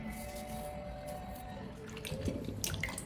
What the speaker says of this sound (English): Now she's going to rinse off the salt water and drain the bananas a little bit